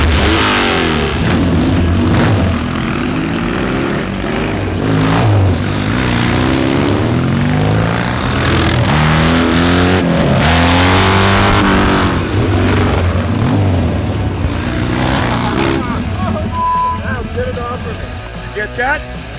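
A 1960s or 1970s Triumph motorcycle engine revs loudly and close, pitch rising and falling in repeated sweeps over a steady low rumble, with a voice talking briefly over it near Griffith Park in Los Angeles.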